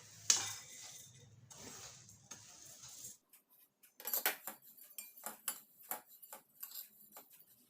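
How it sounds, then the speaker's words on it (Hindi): Fennel seeds dry-roasting in a pan, stirred with a spoon: quiet scraping at first, then a string of light, dry ticks and clinks at an uneven rhythm close by. "अब हम भुनेंगे बड़ी सौंफ।"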